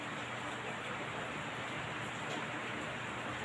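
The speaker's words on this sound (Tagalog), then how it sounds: "hindi humihinto ang ulan" Heavy rain from a tropical storm pours steadily on a house roof, a dense, unbroken hiss and patter filling the whole stretch without pause.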